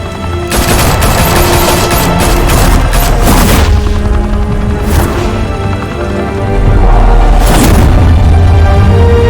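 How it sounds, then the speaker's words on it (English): Heavy gunfire in a Batman game or show, a loud continuous barrage of rapid shots and booming blasts with sharper bursts recurring, dense and close throughout. "Open fire!"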